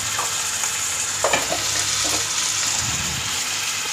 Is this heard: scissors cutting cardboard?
no